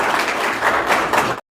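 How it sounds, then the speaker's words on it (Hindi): Audience applause at a community welcome programme, a dense burst of many hands clapping that swells in waves and cuts off abruptly after about a second and a half. "जोरदार तालियों से इस्तकबाल करें।"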